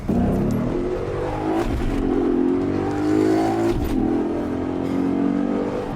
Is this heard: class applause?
no